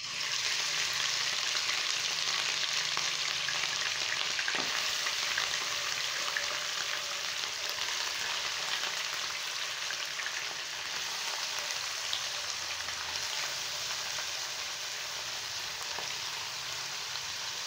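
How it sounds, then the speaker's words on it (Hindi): Mutton pieces sizzle and crackle loudly in hot oil in a karahi, a steady dense frying hiss that holds throughout with faint stirring clatter. "एक कढ़ाई में मैंने ऑयल डाल के रख दिया था गरम होने के लिए, जो कि गरम हो चुका है। अब मैं इसमें गोश्त डालूंगी।"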